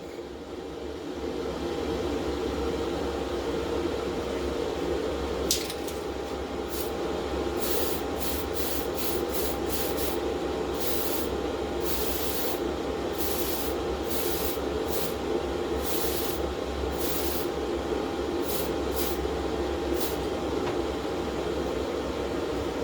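Spray paint hisses steadily onto the interior of a Matchbox Mercedes toy car, coating it black, with a loud continuous hiss broken by short pauses between bursts in the second half, close and without talk.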